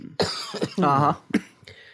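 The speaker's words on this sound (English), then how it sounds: "I understand why you have a cough then" A few sharp coughs, close and fairly loud, with a short throat-clearing rasp between bursts and brief pauses.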